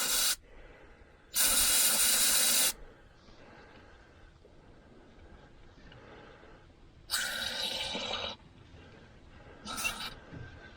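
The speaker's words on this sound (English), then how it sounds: "we're going to spray a little rust check up in here if we can" Rust Check sprayed up under a 2018 Chevrolet Colorado pickup, two long loud hissing bursts and a shorter one near the end, with quieter rattling and handling noise between them.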